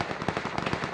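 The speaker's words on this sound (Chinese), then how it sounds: "枪声那边来的" Rapid gunfire inside the battle royale game PUBG, a quick string of sharp crackling shots that keeps going through the whole moment, fairly loud and close with no talking over it.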